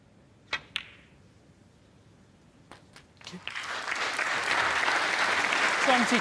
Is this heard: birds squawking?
no